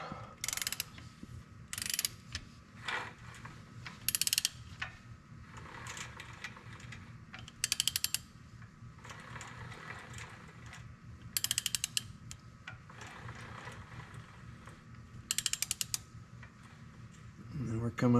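Ratchet with a 19 mm socket turning a bolt on a Kawasaki Brute Force 750i ATV engine, giving repeated bursts of quick close clicking with pauses between strokes over a low background hum.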